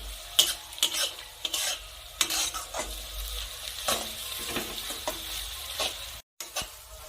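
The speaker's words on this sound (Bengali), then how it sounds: "খুব ভালো করে নেড়ে চেড়ে পেঁয়াজ আমি 3 মিনিটের মতো ভেজে নেব।" Onions frying in a hot pan over a high gas flame, a steady sizzle broken by repeated scraping stirs of a spoon, close and fairly quiet, with no talk.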